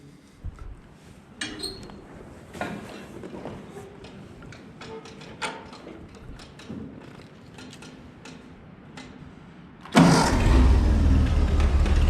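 A 1940 Ford 9N tractor is readied with scattered clicks and clunks, then the engine starts with a sudden loud burst and settles into a steady, close running rumble.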